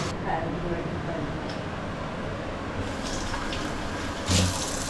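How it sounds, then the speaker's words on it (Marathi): Water pours from a clay pot into a pan while kande pohe is being cooked, a steady close splashing wash that runs throughout. "मडक्यातलं पाणी घेतो."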